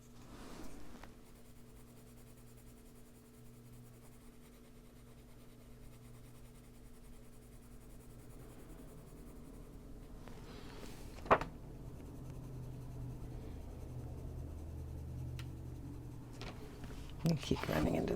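Adult coloring with Brutfuner colored pencils, the pencil scratching and rubbing against paper in a quiet, steady rasp close by, with a few sharper bumps near the end.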